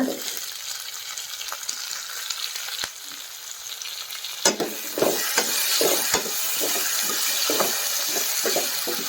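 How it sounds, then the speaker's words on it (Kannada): Chopped tomatoes fry in a pot for a traditional Karnataka holige sambar, a steady sizzle that grows louder and busier halfway through as they hit the oil, with stirring clatter and no talking. "ನಾವು ಏನು ಈಗ ತಾನೇ ಹೆಚ್ಕೊಂಡಿದ್ವಲ್ವ ಟೊಮೊಟೊ ಹಣ್ಣನ್ನು ಕೂಡ ಸೇರಿಸ್ಕೊಳ್ಳೋಣ"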